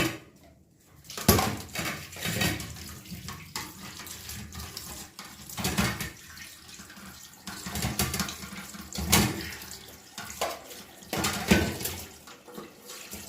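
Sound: peeled carrots washed under running tap water

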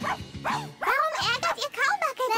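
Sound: dog barking in a cartoon

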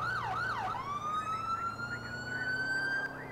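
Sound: police car siren in LCPDFR video game

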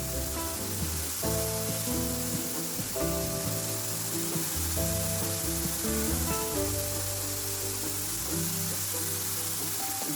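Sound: potatoes frying and sizzling in a pan

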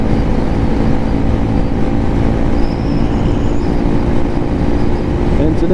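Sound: Lifan KPM 200 motorcycle riding

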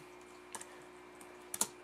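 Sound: typing on a computer keyboard

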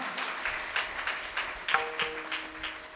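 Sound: audience applause for the children

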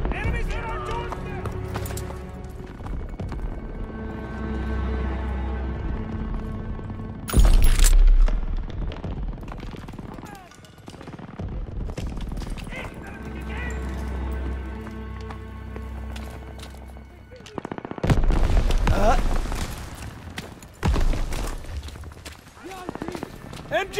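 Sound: machine gun fire on the beach, Call of Duty WWII video game

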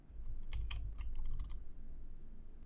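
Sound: keyboard typing a prop name into a filter box

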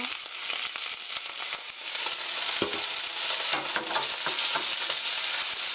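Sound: onion and green bell pepper stir-frying in a pan

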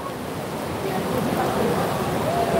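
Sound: heavy rain

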